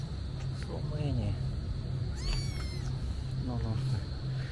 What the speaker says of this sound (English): Oh, so many cats, you see.